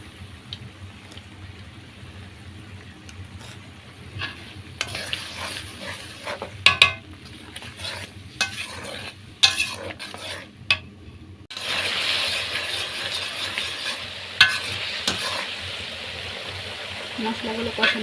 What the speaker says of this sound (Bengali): মশলাগুলো কষানো হয়ে গেছে,